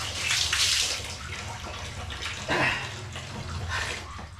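Tap water pours into a basin in a bathroom, a splashing rush that swells and eases in uneven surges, close by with no talking.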